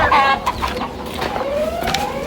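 Desi chickens cluck repeatedly on a poultry farm laid out for egg laying, with close, overlapping calls and a steady barnyard hum behind them.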